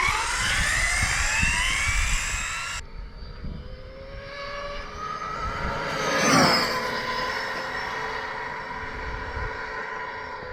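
An Arrma Mojave EXB RC car on a speed run gives a high, rising electric whine that climbs in pitch, then passes close with a sharp swell and fades into a steady distant drone.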